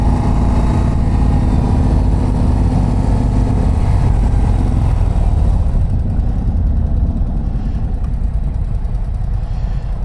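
A 2024 Harley-Davidson CVO ST with the 121 engine being ridden, giving a loud, continuous engine drone with steady rumble and wind noise throughout, with no talking.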